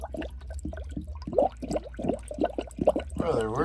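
Coolant gurgling in the cooling system of an R35 GTR drift car, heard as quiet irregular bubbling and glugging pops that grow busier and louder toward the end.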